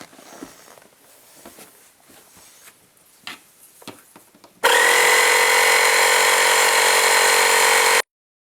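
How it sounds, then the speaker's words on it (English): After quiet shuffling and light clicks, a nail gun's air compressor kicks on abruptly, running loud and steady for a few seconds before cutting off sharply. "And that's what the nail gun compressor is going to sound like too."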